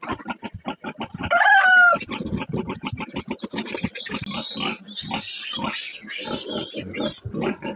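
Pigs grunt and squeal continuously in a pen at feeding time before dawn, with a rooster crowing loudly near the start, all close and busy.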